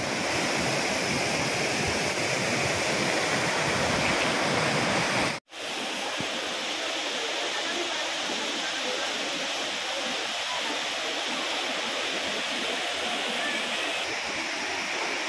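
The Chandni waterfall at Belgahna roars loudly and continuously as a dense, broad rush of falling water. The sound cuts out for a split second and then resumes unchanged.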